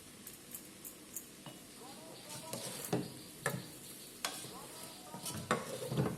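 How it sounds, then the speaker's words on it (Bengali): Chow mein with tomato is stirred in a pan, a quiet sizzle under repeated scraping and clattering of a spatula, with a voice speaking softly over it. "দেখুন কত সুন্দর নাড়ানো যাচ্ছে।"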